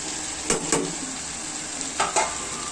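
Mixed vegetables with carrots sizzling in a pan under a steady frying hiss, with two pairs of brief stirring scrapes near the start and later, close and moderately loud.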